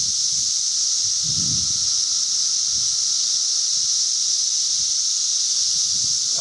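Cicadas keep up a loud, constant high-pitched buzzing drone all through, an unbroken shrill chorus with faint low rustling and handling bumps underneath and no talk.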